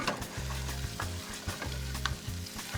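Pancetta crackles and sizzles in oil in a pan, a steady close frying hiss broken by scraping and stirring clicks from a utensil, with no talk.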